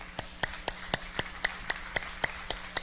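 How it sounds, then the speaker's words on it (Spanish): Steady rhythmic hand clapping during a church service, about a dozen even, sharp claps at a regular beat, moderately close over a quiet background. "démosle un aplauso al Señor"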